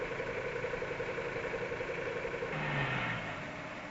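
A Unimog U 406 engine runs steadily at a moderate, even pitch while the truck moves its load platform into transport position, with a short rise in effort near the end and no talk.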